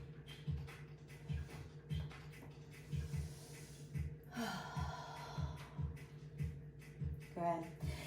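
Slow rhythmic breathing during a yoga pose, soft inhales and exhales repeating at a steady pace against a quiet steady hum, with a brief rustle partway through.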